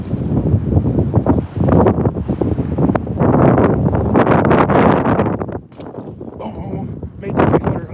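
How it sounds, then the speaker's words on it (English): Strong gusts of wind buffet the microphone on an outdoor disc golf course, a loud, rumbling roar that swells and drops in waves and briefly eases near the end, with a person talking throughout. "Big wind came in."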